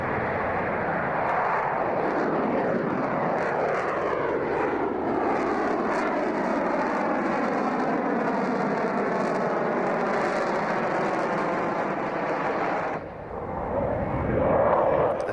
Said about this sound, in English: the Fat Albert C-130 takes off with jet assistance